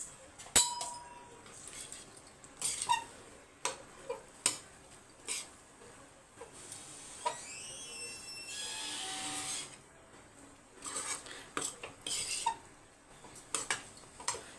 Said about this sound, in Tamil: இப்போ மிக்ஸ் பண்ணிக்கோங்க.